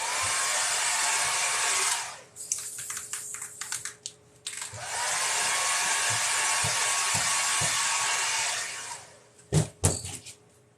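A hair dryer blows on paint during a live painting session, running loud and steady for about two seconds, pausing briefly with some clicks, then blowing again for several seconds before cutting off into short knocks.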